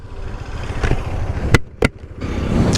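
A KTM Duke 250 BS6 motorcycle rides along in first gear, a steady close engine drone with a few sharp clicks or knocks breaking through before the sound opens up again.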